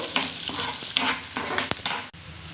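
Aloo bonda frying in hot oil gives a steady, close sizzle, with a few brief sharper clatters and stirs cutting through, no voices present.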